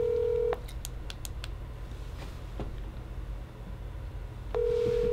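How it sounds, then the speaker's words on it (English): A telephone dial tone sounds briefly before a quick series of touch-tone beeps as a number is dialed. The dial tone returns at the end, steady and clear, with no voices. "let's give Terry a call and see what the question might be"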